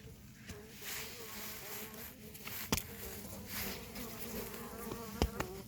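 Honeybees buzz continuously in a dense, steady drone at an apple orchard, with a couple of sharp knocks and no clear talk.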